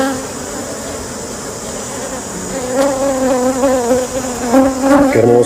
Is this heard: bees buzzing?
yes